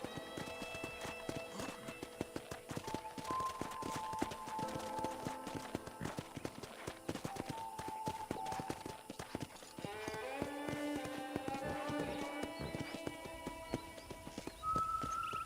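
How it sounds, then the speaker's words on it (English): Horse hooves clip-clop steadily in Red Dead Redemption as a ranch horse walks along, steady and close, layered under game music with an occasional whinny-like tone. "I picked out a fine horse for you."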